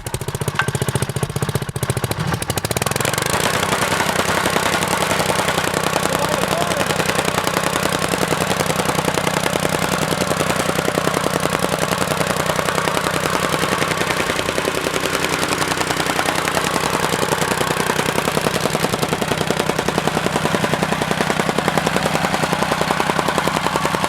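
A small gas-powered plate compactor starts up and runs steadily on site soil prepared for a straw-bale home. The rapid, loud, rattling thump continues for the whole stretch without letup.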